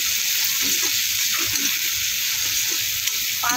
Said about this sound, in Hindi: अब इसमें हम कटा हुआ लहसुन डाल देते हैं।